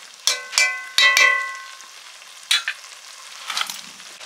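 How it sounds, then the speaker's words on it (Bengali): Pieces of fried hilsa fish are dropped into a simmering pumpkin curry, setting off a few sharp sizzling bursts with clinks of a utensil against the pot. Quieter spitting and bubbling follow. "ভেজে রাখা মাছগুলো দিয়ে দিচ্ছি, ইলিশ মাছ।"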